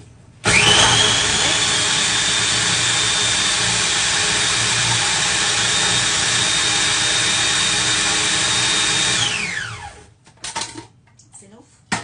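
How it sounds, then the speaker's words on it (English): A food processor runs loud and steady for about nine seconds, mixing sweet pastry dough for a jam slice, then winds down and stops with a few clunks after. "Oh, I'm making it in my food processor, by the way."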